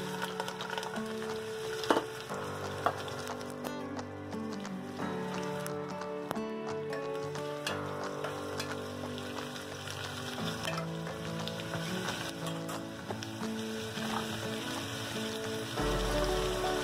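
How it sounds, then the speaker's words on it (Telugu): Onions, green chillies and garlic fry steadily in a pan for a hotel-style menthi pappu, a dense continuous sizzle with occasional clinks of a utensil, close and even throughout. "ఆనియన్స్, పచ్చిమిర్చి అండ్ వెల్లుల్లి మూడు బాగా ఫ్రై అవుతున్నాయి."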